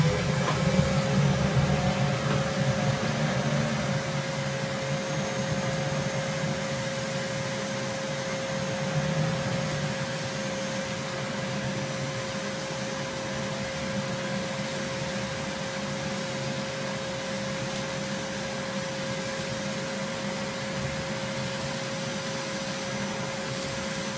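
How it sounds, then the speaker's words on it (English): A workshop vacuum sucks a pile of sawdust up through a cyclone dust collector mounted on a new collection bin, giving a steady, loud whining roar with a constant tone that holds evenly throughout, with no voices. "I've got the vacuum coming into the top of the cyclone"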